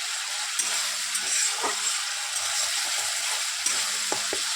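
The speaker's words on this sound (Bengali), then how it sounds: "এবার দেখুন কষানোটা আমার হয়ে এসছে।" Chopped onion, tomato, chilli powder, salt, turmeric and black cumin sauté in hot oil for a puti fish curry, a steady close sizzle with a few scraping stirs and clinks of the spatula.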